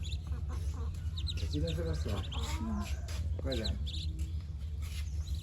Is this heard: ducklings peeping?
yes